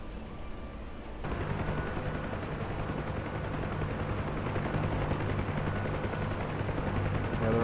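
Helicopter rotor in a video game, a steady whirring thrum that swells and holds loud and constant after a brief quieter start, with no talking.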